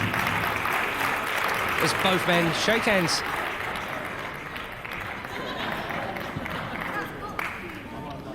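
A crowd at a British Rounds boxing match between James Mason and Johnny Kidd gives a steady wash of applause and murmur, heard under a commentator's voice.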